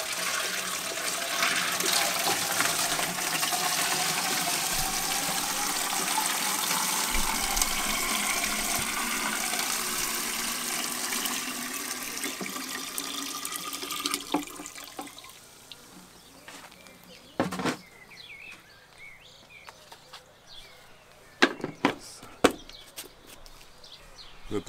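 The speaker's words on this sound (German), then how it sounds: "Den Rest füllen wir mit Wasser auf." Tap water pours loudly and steadily into a container already holding effective microorganisms solution for garden use, then stops, leaving quieter handling clatter and a few sharp knocks.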